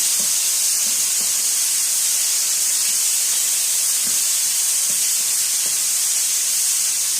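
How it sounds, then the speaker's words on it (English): A constant, dense hiss of drained canned chickpeas sizzling in a hot pan, with faint occasional ticks and pops underneath. "You can hear the nice sizzle going on."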